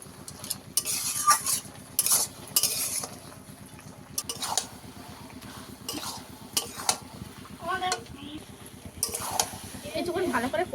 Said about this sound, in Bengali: আবারও ভালো করে একটু কষিয়ে নেব।